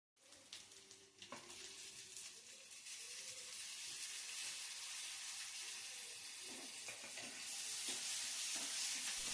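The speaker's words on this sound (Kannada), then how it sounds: "ಎಣ್ಣೆ ಕಾದ ನಂತರ ಹೆಚ್ಚಿದ ಮೆಣಸಿನಕಾಯಿ, ಈರುಳ್ಳಿ ಮತ್ತು ಟೊಮ್ಯಾಟೊಗಳನ್ನು ಹಾಕಿ ಚೆನ್ನಾಗಿ ಫ್ರೈ ಮಾಡಿಕೊಳ್ಳಿ" Chopped chilies, onions and tomatoes sizzle in hot oil in a pan for a chickpea chaat, a steady close hiss with occasional stirring clicks, growing slightly louder toward the end.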